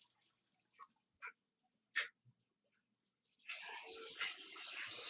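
Tap water runs steadily into a kitchen sink as string beans are rinsed, starting after a few faint clicks and getting louder and fuller, heard close up with no talking.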